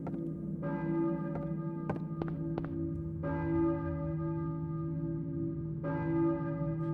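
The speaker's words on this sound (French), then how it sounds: "Serait-ce une cloche d'église? Qui peut bien faire sonner la cloche?" A church bell ringing in the Silent Hill video game: slow, resonant tolls that sustain and ring out, with several brief metallic clanks between them, heard alone and fairly loud.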